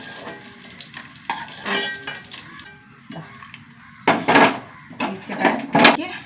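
Raisins and cashews fry in ghee with a crackling sizzle that comes in bursts, and utensils scrape and clatter against the pan. Several louder bursts of sizzling near the end are close to the microphone, and no one speaks.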